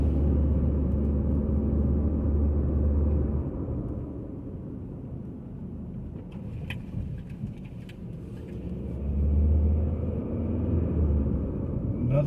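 A car rolling slowly along a residential road with speed bumps, giving a continuous low rumble inside the cabin that dips in the middle and swells again, with a few faint knocks and clunks.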